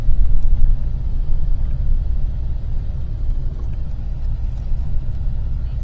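A car drives along a rural road near Frydlant toward Skorzelec, its steady low engine rumble and tyre noise running continuously and close, with no talk.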